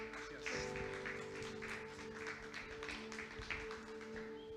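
A church congregation claps for their pastor during a Sunday service, the applause faint and distant over steady sustained instrument tones.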